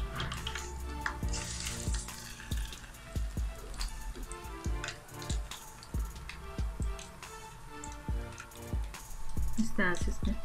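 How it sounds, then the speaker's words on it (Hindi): Fish fries on low heat in a pan at Pakistani Lahori-style cooking, a steady soft sizzle with scattered ticks and drips beneath a person talking throughout. "हल्की आंच पे आप इसको फ्राई करें।"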